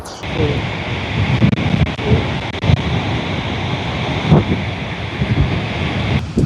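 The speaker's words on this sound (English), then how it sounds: "We're here at the Godafoss Waterfall, and it's just amazing." Godafoss waterfall in Iceland roaring with a steady, dense rush of falling water, loud and close, with wind buffeting the microphone throughout.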